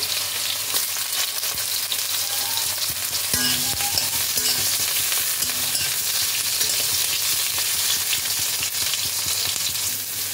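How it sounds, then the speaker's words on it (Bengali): Eggplant pieces fry in hot oil in a kadai for a mixed-vegetable curry, giving a dense, continuous crackling sizzle with a few scraping stirs, close up and without voices. "এবার আমি ওই তেলের মধ্যে দিয়ে দিচ্ছি বেগুনগুলো। বেগুনগুলোকেও হালকা করে একটু ভেজে তুলে নিতে হবে।"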